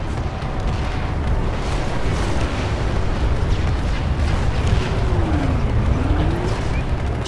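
A generator in the game Planetside explodes into a sustained, loud rumbling roar that rolls on heavily and evenly for several seconds with no voices.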